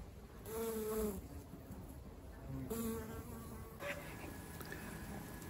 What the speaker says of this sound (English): Lots of bees around today, which is quite nice to see. Mostly bumblebees, but a few honeybees.